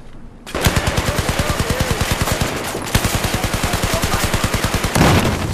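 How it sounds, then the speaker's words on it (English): Sustained automatic gunfire from the video game Battlefield 4, a loud, rapid, steady stream of shots that continues nearly without pause for several seconds, with a brief break partway through. "Suppressive fire."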